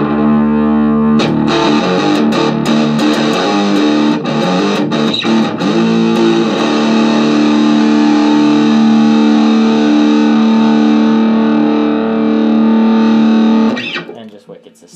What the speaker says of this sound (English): let's do some drop tuning